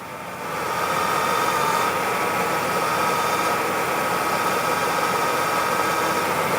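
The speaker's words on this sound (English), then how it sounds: "So you can hear the power steering pump sounds normal now." Power steering pump on a car running after a fluid change, a steady close mechanical whine and hum over a low engine idle, continuous with no talk.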